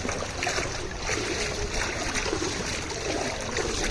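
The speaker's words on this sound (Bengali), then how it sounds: "দেখুন এদিকে কি পানি ঢুকছে" Floodwater pours into a house in a flooded village in Chandanaish, Chittagong, a steady close rush and trickle of flowing water that continues without pause.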